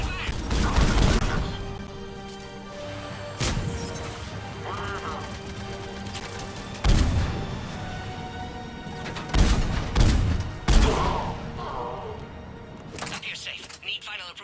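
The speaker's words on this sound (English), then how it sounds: "Under heavy attack! Taking fire!" Gunfire and explosions during an attack in the Mass Effect video game, with loud bursts and booms recurring irregularly under urgent shouted voices and radio chatter.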